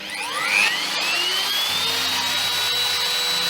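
A router trims the edge of a B C Rich guitar body as the bearing rides along it. The motor spins up to a loud steady high whine and holds it, cutting with a harsh constant roar.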